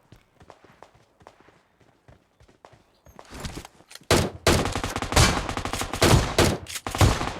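Gunfire in the mobile battle-royale game PUBG Mobile. Soft in-game footsteps come first, then bursts of rapid automatic fire break out and continue loud and dense, with rattling shots overlapping to the end.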